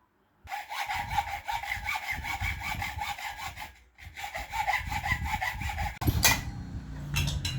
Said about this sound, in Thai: พอเราเลื่อยขัดได้แบบนี้